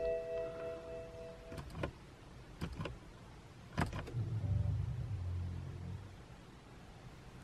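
A BMW fuel pump priming as the ignition is switched on and off, heard as a few separate sharp clicks and a brief whirring hum between them, faint against quiet background noise, with no talking.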